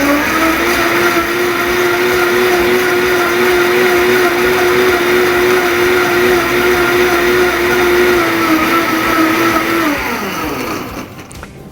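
A powerful Vitamix blender blends cashews with a loud, steady high-speed whir for about ten seconds, then the motor winds down and stops.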